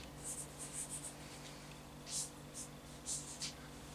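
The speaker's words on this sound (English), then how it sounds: "And here I will write" Marker or chalk writing on a board during a physics lesson, faint scratchy strokes in short groups over a steady low hum and room noise.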